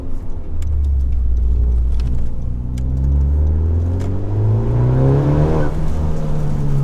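A Honda Civic Type R fitted with a Remus exhaust revs hard, the engine note climbing steadily through the gears with a rising, raspy exhaust tone, loud and close with no talking.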